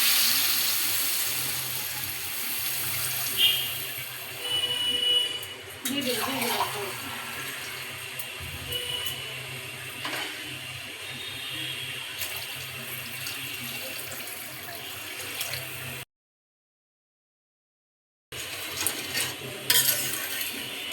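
Water splashes and pours into a pot of sautéed stem vegetables, potato and eggplant to make the broth for a gulsha fish curry, with sizzling, stirring and clinking mixed in and a brief silent gap near the end.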